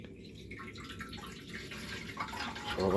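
Concentrated multi-purpose vinegar poured down a hole in a part of a Honda CD 175 motorcycle, a steady liquid trickle and gurgle that grows louder toward the end, with no talk.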